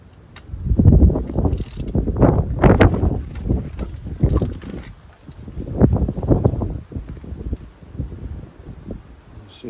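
A socket wrench ratchets a spark plug out of a 1997 Yamaha PW50 two-stroke minibike, heard as loud, close bursts of clicking that come and go in irregular spurts.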